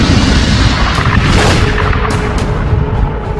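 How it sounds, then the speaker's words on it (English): Supernova explosion sound effect for a space documentary, a deep, loud, rumbling boom that swells and roars continuously with a few sharper bursts layered on top, no speech. "When a red giant star explodes, a titanic fireball known as a supernova"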